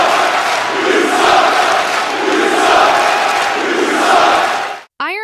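Arena crowd in the WWE Champions wrestling video game roaring and chanting in a steady, loud wash of massed voices, cut off abruptly near the end by a brief different sound.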